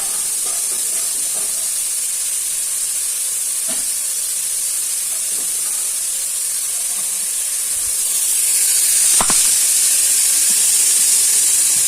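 Onions frying in hot oil with cumin and pepper, a steady loud sizzling hiss that runs unbroken and swells slightly toward the end, with a faint clink or two and no talking.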